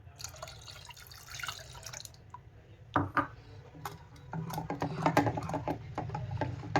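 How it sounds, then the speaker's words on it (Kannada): Tamarind juice pours and splashes into a pot of dal in uneven bursts, with scattered clicks and drips, close up and fairly quiet. "ಹುಣ್ಸೆಹಣ್ಣು ರಸ ಇಷ್ಟು ಹಾಕಕತ್ತೀನಿ ನೋಡಿರಿ"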